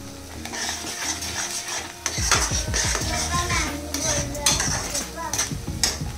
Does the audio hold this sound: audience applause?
no